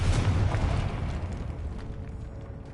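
A Confringo spell blast in the game Hogwarts Legacy, one loud, broadband explosive burst right at the start that rumbles and slowly fades over a few seconds, with no voices.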